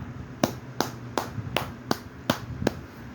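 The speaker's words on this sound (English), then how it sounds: "we're gonna have to give him a double round of applause" Six evenly spaced sharp claps from one person's hands, a crisp steady rhythm of applause over a low background hum, no voices.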